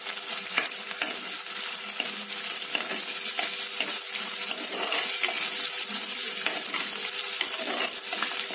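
Curry leaves sautéing in a pan, a dense, continuous loud sizzle with steady stirring throughout and no talk.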